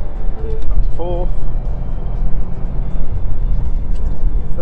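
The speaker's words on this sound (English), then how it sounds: "A lot more weight transfer in the Subaru, so you hear the tyres squealing a bit more" A Subaru driven hard around a race track, its engine droning loudly while a brief tyre squeal rises during cornering, with the driver talking over the noise.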